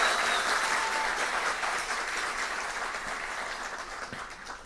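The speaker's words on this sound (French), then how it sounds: "nous applaudissons Stéphania Tillus" Sustained audience applause for a performer at a French-language event, steady dense clapping from a large crowd throughout, fading slightly toward the end.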